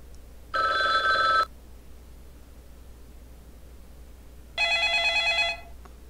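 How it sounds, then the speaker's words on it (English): Two separate bursts of an electronic telephone ringtone, each about a second long, sound several seconds apart over faint background hiss, used as a phone ring for a Scratch game. "Is there a phone sound for my phone game?"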